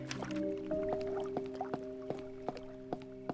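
Water in the video game Cabernet gives soft drips and small liquid plops spaced irregularly over a steady tonal background hum, quiet and close, with no talking.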